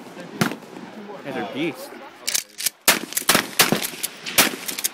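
Gunshots ring out at a private outdoor shooting range, a series of sharp, loud cracks in irregular succession, with people talking over and between the shots.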